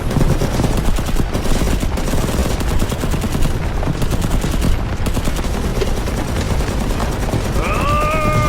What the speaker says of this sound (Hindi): अभी चुपचाप गोलियां चला,